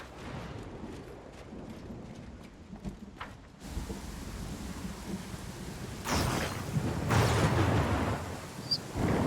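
Thunderstorm in the video game Pathfinder: Kingmaker: steady rain hisses while thunder rumbles, then two loud, close lightning cracks burst near the end, with no talk.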